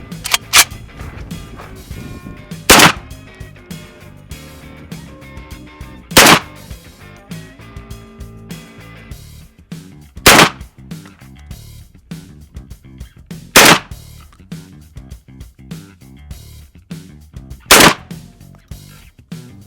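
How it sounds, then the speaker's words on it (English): A shotgun fires Federal slugs in five loud, sharp blasts spaced several seconds apart, each with a brief echo, against a quiet outdoor background. "5 more rounds of Federal slugs"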